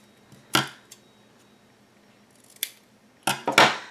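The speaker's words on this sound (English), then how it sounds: "I'm just going to cut right underneath." Scissors cut paper for a mini album craft in a few separate crisp snips, a single one first and then a quick cluster near the end, close and fairly quiet with no talking.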